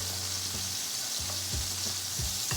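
Tomatoes sizzle and fry in a hot pan during pickle-making, a steady close crackling hiss with occasional soft stirring knocks and scrapes, no voices.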